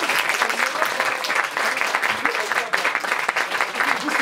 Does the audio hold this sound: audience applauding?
yes